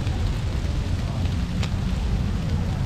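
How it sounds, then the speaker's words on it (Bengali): Rain falling at Gardens by the Bay in Singapore, a steady dense outdoor wash of noise with a deep rumbling low end, continuous and loud with no gaps. "এই যে গার্ডেন বাই দ্য বে আমরা এখন বৃষ্টিতে ভিজতেছি দুইজনে"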